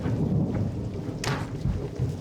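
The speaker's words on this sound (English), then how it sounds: "It's a stormy night." A stormy night outdoors: a low rumble of thunder rolls under steady rain, with a sharper crack of thunder breaking through midway, no voices.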